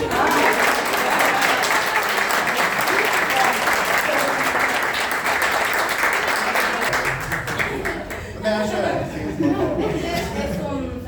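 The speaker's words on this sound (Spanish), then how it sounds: "Aplaudan bien." A room claps for guests called up to receive certificates of thanks at an education talk in Argentina: dense, loud applause that thins toward the end, with chatter and some laughter beneath.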